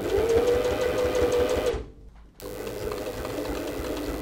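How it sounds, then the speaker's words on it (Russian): A sewing machine runs steadily while stitching reflective piping into a finished garment, with a loud continuous motor whir, a brief stop partway through, then the stitching resumes at a lower level. "Вот так вшиваются канты в любое изделие."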